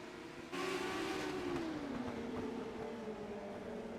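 Race cars run laps on a track at the LA Coliseum, a steady engine drone with a rising then falling pitch as a car passes, fairly faint and continuous.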